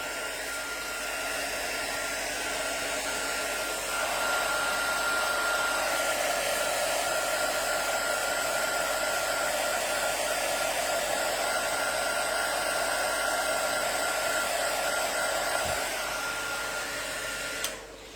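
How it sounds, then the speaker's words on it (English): A craft heat embossing tool blows hot air for a mixed media art project, producing a loud, steady whooshing drone that runs nearly nonstop at close range before cutting off near the end. "and then turning on the heat tool"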